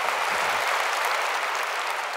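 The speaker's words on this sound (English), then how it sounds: "Let's give him a warm applause." Audience at a Red Hat Summit 2019 keynote applauding, a dense, steady wash of clapping from a large crowd that holds at even loudness throughout, with no voices over it.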